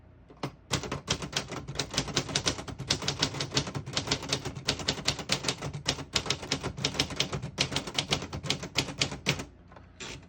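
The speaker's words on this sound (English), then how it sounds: "all the keys type nice and none of them skip or stick" Rapid, crisp clacking of keys on a 1970s Brother Young Elite portable typewriter in quick bursts, close and loud, with brief pauses between runs of strokes.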